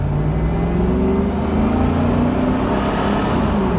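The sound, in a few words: Chevy SSR truck driving and shifting gears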